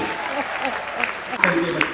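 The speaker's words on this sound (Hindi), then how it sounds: "मिलके बजाओ एक बार तालियां" Applause rolls through the audience at a comedy poetry gathering held by a Rotary club, a dense continuous clatter of many hands with voices mixed in.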